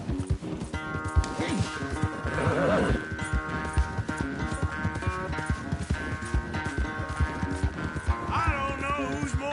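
Rapid clip-clop of galloping hooves during a horse race in Red Dead Redemption 2, under a music score, with a horse whinny and a voice briefly calling out.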